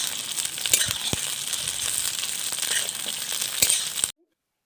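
Onion and capsicum sizzle steadily in hot oil in a pan, with scraping stirring strokes and occasional sharp clicks over the frying, close and fairly loud before stopping abruptly.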